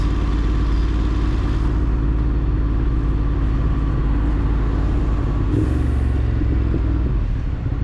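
Tunnel traffic in Midtown Manhattan, heard from a Ducati Monster 1200S motorcycle: a constant, loud low rumble of engines and road noise with no break and no talk.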